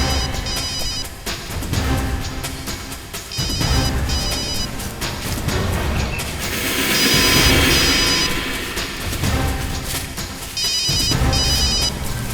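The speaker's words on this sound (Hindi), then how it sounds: "दया का फोन बज रहा है।" A phone ringtone trills repeatedly in short bursts over a loud, busy music and sound-effects bed.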